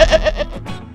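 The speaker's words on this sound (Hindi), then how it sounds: "अरुण के घर के रामू नाम का एक बकरा रहता था" A goat bleats once in a Hindi animated children's story: a short, wavering, quavering cry that is close and fairly loud, then fades into quieter background sound.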